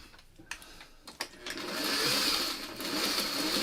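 Sewing machine stitching fabric pieces for a small quilt block, starting after a few soft handling taps and then running steadily in a close, continuous whir.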